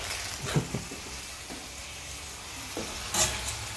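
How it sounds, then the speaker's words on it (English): Minced meat fries in a pan with a continuous hissing sizzle, punctuated by a few sharp clicks and scrapes from stirring, close and moderately loud, with no voices. "let's just fry up real quick, just so that it's white on both sides, not crispy as I said"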